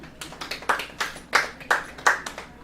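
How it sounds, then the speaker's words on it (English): Sparse applause from a small comedy-club audience at a stand-up show: a handful of scattered, fairly faint claps arriving in uneven bursts, with no talk over them. "Let's hear it by applause if you can drive a stick shift."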